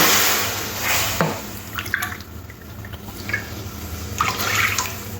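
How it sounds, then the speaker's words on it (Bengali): One and a half cups of water poured into a wok, a soft continuous splash and trickle close by with a few louder gurgles over several seconds. "এরপরে কড়ার মধ্যে দেড় কাপ জল দিয়ে দেবো"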